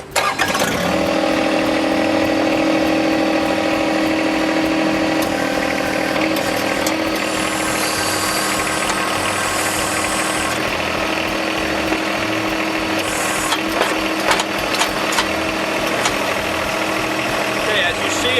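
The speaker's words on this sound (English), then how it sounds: "Okay, now I'm going to start the tractor." A John Deere 1025R compact tractor's small diesel engine cranks, catches and settles into a steady, throbbing idle that runs loud and close throughout, with some rattling and no clear talk.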